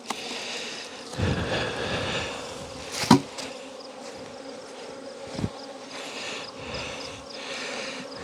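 Honey bees hum around nucleus hives while the nucs are being expanded. The buzzing is loud, dense and continuous, with a few close knocks and bumps.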